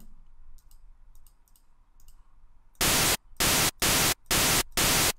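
Faint crackles and hum, then five loud bursts of harsh white-noise static from the Xfer Serum synthesizer noise oscillator, switching on and off in a choppy rhythm.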